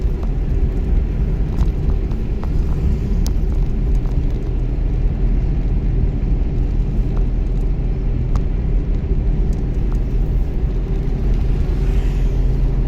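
A car engine runs as the accelerator is pressed, giving a steady, loud, low rumble and whir that holds fairly even throughout, with a few faint clicks over the drone.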